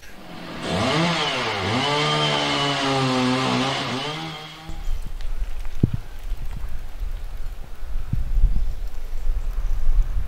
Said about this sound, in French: on va même chercher la tronçonneuse